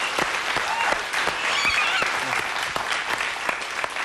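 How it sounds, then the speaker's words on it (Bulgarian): A crowd applauds a ballet troupe of girls at a live show, with sustained, loud, even clapping from many hands filling the whole span. "Аплодисменти за момичетата от балет Магаданс!"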